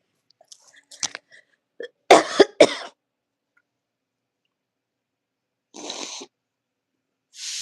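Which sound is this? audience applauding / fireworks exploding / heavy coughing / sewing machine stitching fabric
heavy coughing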